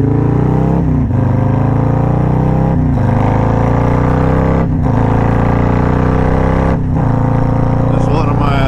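A motorcycle rides a winding country road, its engine droning loud and close with steady harmonic tones that dip briefly at regular gear shifts, over constant wind rush.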